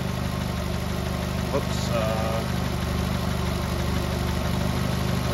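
A 2006 Ford Focus engine idles with a steady, even hum throughout; a person speaks one brief word over it.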